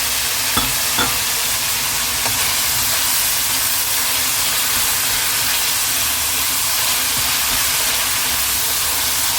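Meatballs fry in a pan alongside golden-browned ingredients for macaroni carbonara, a loud, steady hiss and sizzle with faint clicks of stirring throughout.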